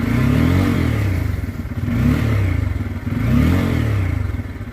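A Bajaj Pulsar N250 motorcycle engine is revved in three close, loud swells, each climbing and then dropping back, with a steady mechanical clatter underneath.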